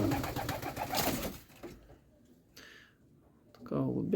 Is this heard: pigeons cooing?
yes